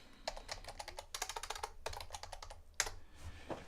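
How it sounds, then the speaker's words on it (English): Rapid typing on a computer keyboard, heard close, with dense clusters of key clicks broken by short pauses and a final few isolated taps. "I'm going to be typing and talking with my hands"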